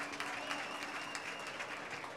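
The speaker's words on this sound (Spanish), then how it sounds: "pido un fuerte aplauso para ellos" A crowd of fans applauds steadily at a Leones del Escogido press event marking the club's 95th anniversary, the clapping fairly quiet and distant, with a faint hum in the background.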